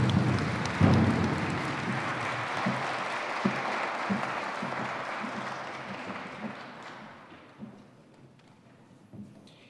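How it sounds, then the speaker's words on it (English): Audience applause at a university president's installation ceremony, a dense sustained clapping from a crowd in a hall that fades toward the end, with a few louder thumps. "let's give them a round of applause"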